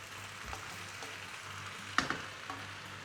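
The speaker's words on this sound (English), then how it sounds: "as soon as I start stirring, within a minute or two, this is gonna be great" Greens sizzle quietly in a wok during a five-spice chicken stir fry, with a soft, steady frying hiss and a few clicks and scrapes from stirring.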